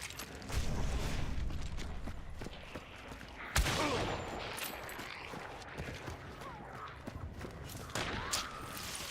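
Gunfire in a video game, sharp cracks and bangs at about 0.5, 3.5 and 8 seconds over a dense, cluttered background of mechanical clatter, no voices over it.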